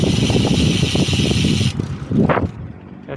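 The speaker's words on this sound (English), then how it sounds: "Preview sound of Hyper wheel." A WINSPACE Hyper rim bicycle wheel spins with a smooth whirring rush and steady ticking freehub clicks, close up, then it slows and fades into softer rustling.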